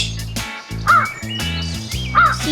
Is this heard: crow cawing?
yes